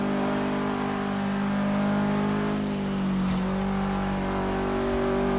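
A Subaru Impreza in the racing game Forza Horizon 3, heard from inside the car, its engine holding a steady droning hum with a slight rise in revs, no talking.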